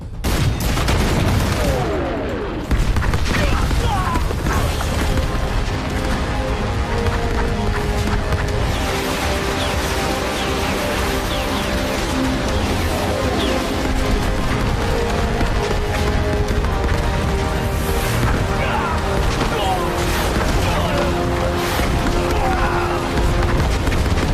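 A massed artillery barrage in a Korean War battle scene at Shangganling, with rocket artillery firing: dense, continuous roaring explosions and rumbling booms fill the whole stretch at high volume, with a brief dip early on.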